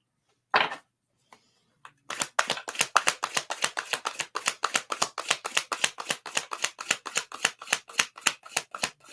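Tarot cards are handled close by, starting with a few scattered taps and slides, then a long run of quick, crisp, evenly spaced riffling snaps.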